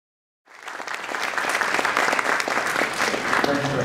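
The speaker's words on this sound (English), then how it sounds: "please give her a big round of applause." Audience at an economics symposium breaks into sustained applause, starting abruptly and holding steady and loud as a dense crowd of clapping hands.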